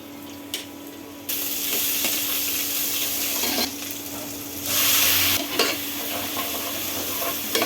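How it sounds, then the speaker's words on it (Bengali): Spice masala with turmeric and chili stirred and fried in oil for a fish curry, a loud close hiss and crackle that swells and drops in bursts as the pan is worked, with no voices. "ভালোভাবে মশলাটা কষিয়ে উপরে তেল না আসা পর্যন্ত"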